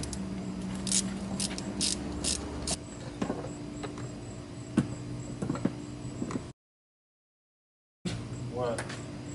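Ratchet tool working on old, long-seated bolts, giving quiet intermittent clicks and rattles amid background noise, then a brief dropout before sound resumes.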